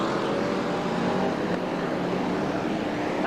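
BriSCA Formula 1 stock cars racing at Bradford in 1994, a loud, continuous roar of several engines droning together as the pack passes, steady and close with no breaks.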